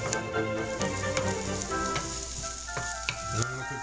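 Vegetables such as onions and garlic cooking in a pan for an egg white scramble, a steady crackling sizzle with occasional scraping stirs, close and fairly quiet.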